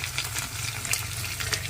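Cut tomatoes drop into mushroom biryani masala frying in a pan, giving a steady close sizzle with soft stirring scrapes and light wet crackles throughout, no voices.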